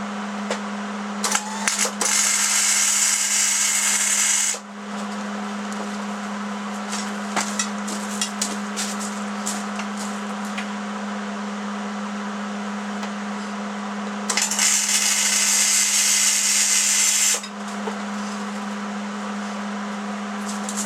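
Steel plates of a welding table being tack welded, heard as two long bursts of harsh crackling hiss. Shorter spits and clicks fall between them over a constant low electrical hum, close and loud with no voices.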